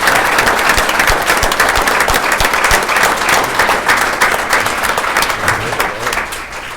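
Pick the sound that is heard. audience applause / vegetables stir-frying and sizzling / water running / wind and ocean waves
audience applause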